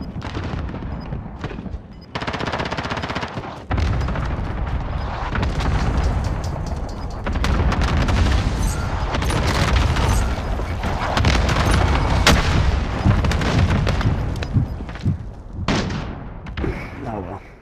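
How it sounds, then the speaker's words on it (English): Cluster strike explosions in the video game Call of Duty Modern Warfare, a dense run of booming blasts and rumbling impacts over about eighteen seconds, loud and continuous, mixed with gunfire. "Allied cluster strike inbound"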